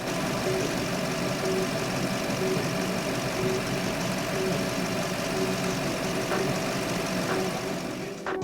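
A Toyota Land Cruiser 100 engine idles steadily with a low, even rumble and a faint rhythmic knock, running alone without talk.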